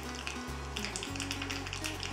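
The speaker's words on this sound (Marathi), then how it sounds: "तर सगळ्यात आधी तेल गरम करून मोहरी, अर्धा चमचा मोहरी, अर्धा चमचा जिरं" Mustard seeds, cumin and asafoetida temper in hot oil, giving a continuous loud sizzle with fine crackling over a low steady hum.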